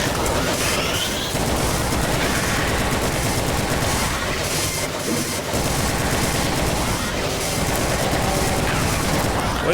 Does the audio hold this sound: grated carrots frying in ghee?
no